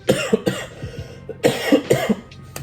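A string of harsh, close coughs in quick bursts, with brief pauses and throaty breaths between them.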